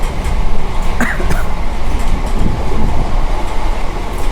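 Inside a moving local passenger train (CMU) running from Ghaziabad toward New Delhi, a continuous loud rumble of wheels on track with rattling carriage noise and faint clatter, no voices.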